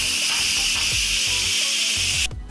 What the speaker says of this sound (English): I let out the steam.